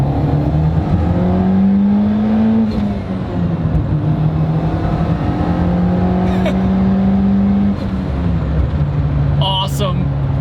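A 350 hp Nissan Pulsar GTI-R driving on a hot day, its engine droning steadily with gentle rises and falls in pitch from inside the cabin, loud and continuous throughout.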